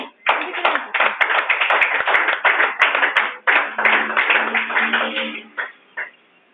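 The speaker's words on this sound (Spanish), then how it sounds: "Denle un fuerte aplauso al Señor." Sustained applause from a church congregation, dense clapping that runs for several seconds before cutting off abruptly.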